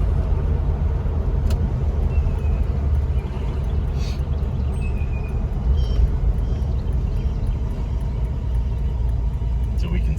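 A Ford Gran Torino V8 fitted with Holley Sniper EFI and suffering an engine stumble runs at about half throttle, a loud, steady, deep rumble filling the whole span.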